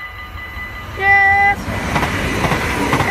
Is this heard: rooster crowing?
no